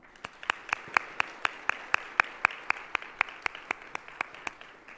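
A crowd of audience members claps steadily through a round of applause at a public forum on surveillance cameras, individual claps sharp and rhythmic, moderately near and without talk.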